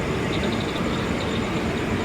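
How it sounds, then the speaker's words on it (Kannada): A loud, continuous rumble of another train passing by a stopped train fills the clip, a dense roar of wheels and carriages close by. "ಬೇರೆ ಟ್ರೈನ್ ದಾಟ್ತಿರ್ಬೋದಂತಲ್ಲ"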